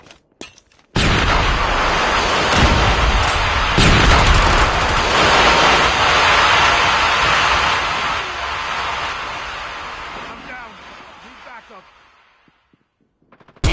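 A grenade blast and heavy gunfire fill a video game firefight, a dense, loud wash of explosions and shots that starts abruptly, holds for about ten seconds, then fades to quiet.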